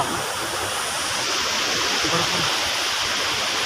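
The Umbrella Falls waterfall at Bhandardara roars steadily and loudly, a constant rushing wash of falling water with no breaks.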